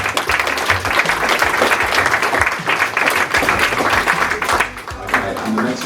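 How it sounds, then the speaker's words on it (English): An audience applauding at a Christmas dinner, loud sustained clapping from a roomful of people, steady throughout with some voices mixed in. "So, yeah, round of applause"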